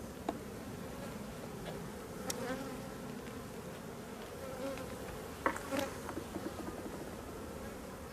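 Steady, dense buzzing of a honeybee colony inside an open hive housing a swarm caught in May, a continuous low hum with a few sharper individual bee passes up close.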